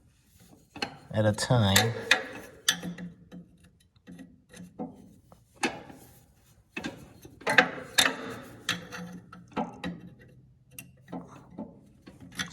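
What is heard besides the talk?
Allen wrench on vise grip turning snowblower bolt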